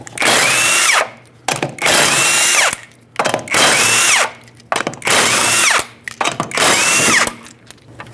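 Five loud bursts of a power tool whirring and rattling, removing the 19mm lug nuts from a Honda Civic wheel, each about a second long with short pauses between, up close.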